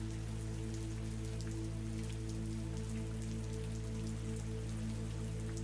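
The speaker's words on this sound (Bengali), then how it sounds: "ছড়ছড় করে জল পড়ছে বারান্দায়" Heavy rain pours steadily onto a veranda during a storm, a dense continuous hiss of drops with a constant low hum beneath, no voices.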